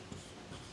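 A pen scratches quietly on paper in a short, faint stroke during a math lesson.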